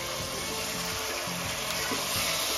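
Chicken pieces dropped into a hot pot for chicken soup give off a soft, continuous sizzle and bubbling, fairly quiet and close, with no voices over it.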